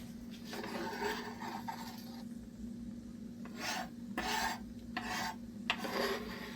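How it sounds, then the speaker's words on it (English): The back of a knife scraping onions and garlic across a pan, a rough rasping scrape repeated in uneven strokes, close and moderately loud over a steady low hum. "You want to actually scrape any of your vegetables off of the pan with the back of the knife."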